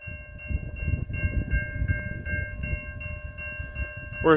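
A CN eastbound freight train rolls past a road crossing in Newtonville, Ontario, its rumbling wheels and rhythmic clatter close and steady under the sustained clang of crossing bells.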